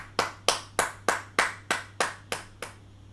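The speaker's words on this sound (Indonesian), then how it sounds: "Yang diberkati tepuk tangan." A single person or small group clapping in slow, evenly spaced claps, about nine distinct claps close by at a church talk on Jewish holidays, fading at the end with a low steady hum underneath.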